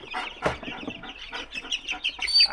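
Young quail chicks cluck and peep close by in a busy, overlapping chatter, with a sharp flutter of wings early on.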